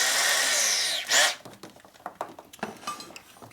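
A drill runs on a 1961 Harley-Davidson FL 74ci panhead engine part, a loud sustained whine that rises and cuts off, followed by scattered metallic clinks and taps of tools nearby.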